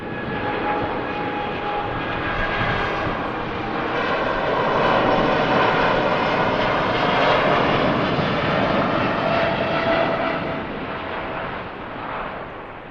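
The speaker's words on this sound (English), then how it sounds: "Here we go, Gulf Air on the roll then." A Gulf Air airliner rolls down the Manchester Airport runway on takeoff, its jet engines building into a loud, broad roar that swells in the middle and then eases as it climbs away.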